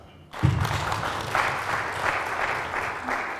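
Audience clapping at an entrepreneurship talk, a sustained dense patter of many hands starting abruptly and holding steady at moderate level, with a faint voice underneath.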